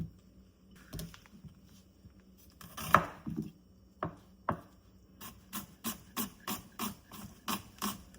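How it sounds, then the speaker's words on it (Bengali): A knife thinly slicing onions on a cutting board, making a steady run of crisp, evenly spaced cuts that quicken toward the end, with a few scattered thumps and scrapes before. "পেঁয়াজগুলোকে আমি থিনলি স্লাইস করে নিব।"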